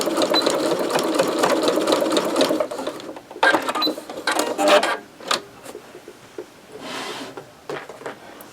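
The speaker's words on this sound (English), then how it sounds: "I want to just sew these together and leave a small place at one end to turn it." A sewing machine stitches a 1/4 inch seam on heat pad fabric with steady, close, rapid whirring runs, then shorter bursts, brief pauses and a final short run.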